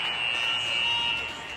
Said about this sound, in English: and we get the buzzer.